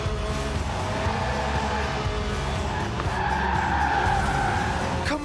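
A lightweight car under 700 kilos with a 190-horsepower 1.8-litre engine revving to 8,000 RPM drifts sideways, its tyres squealing continuously over a loud, close engine note.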